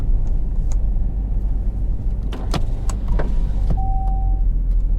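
Electric door mirrors on a used Saab 9-3 adjust inside the car, a short motor whir with a few clicks and knocks over a low cabin rumble, followed by a brief steady tone.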